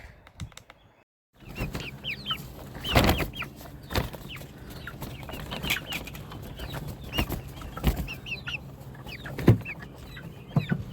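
A flock of chickens settles at dusk on a home-built roosting structure, with repeated clucks and soft chirping calls overlapping at close range, some louder squawks standing out, and no talking.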